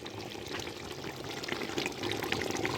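Water pours steadily into a large pot of 2 kg mutton biryani, a continuous close gushing stream that grows slightly louder toward the end, with no voices.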